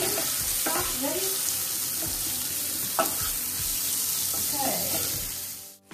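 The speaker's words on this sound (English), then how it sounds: "We're frying chopped onions." Chopped onions frying in a pan, a steady loud sizzle throughout with occasional stirring scrapes and clinks, fading out at the end.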